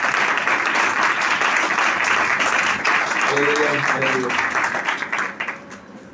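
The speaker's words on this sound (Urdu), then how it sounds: "زوردار تالیاں بجائیں یسوع کے لیے" A church congregation claps loudly and steadily for Jesus at a live meeting, a thick continuous wash of hands, while a man calls out praise words over it before the clapping thins and fades at the end.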